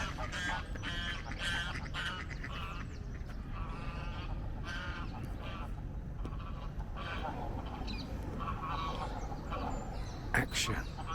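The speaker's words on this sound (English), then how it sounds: "There's some goose wars going on." Geese honking and squabbling in a city park, a mix of harsh calls from several birds at moderate distance over steady outdoor background noise.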